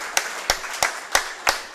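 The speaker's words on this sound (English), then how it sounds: "Give them a round of applause" Five distinct, evenly spaced hand claps ring out close by, a slow steady rhythm over light background room noise rather than a full crowd ovation.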